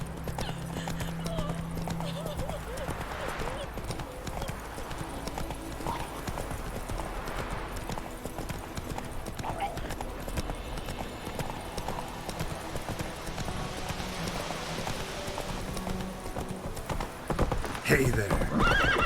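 Geralt's horse Roach from The Witcher 3 clip-clops along at a steady trot, with neighs and whinnies, over game sounds, and people talk at times throughout.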